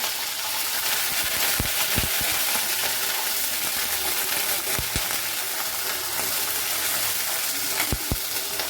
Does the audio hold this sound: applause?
no